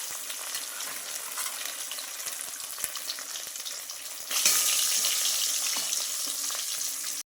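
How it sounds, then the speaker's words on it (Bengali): Fish fry in hot oil in a pan with a steady dense sizzle that suddenly grows louder and brighter partway through, then stays strong, with no talking. "তো চলো মাছগুলো ভেজে নিই"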